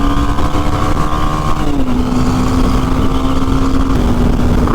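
BMW 310 GS motorcycle engine thrumming steadily while riding, a loud, close droning beat with a sustained tonal hum that dips slightly in pitch as the rider eases off, with wind rush throughout.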